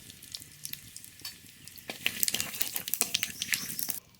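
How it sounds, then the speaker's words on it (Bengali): Whole cumin seeds and bay leaf crackle and sizzle in hot mustard oil in a kadai. A soft, steady fry breaks into a louder burst of close, sharp popping and spattering midway. "কড়াইতে সর্ষের তেল ফড়নে গোটা জিরে"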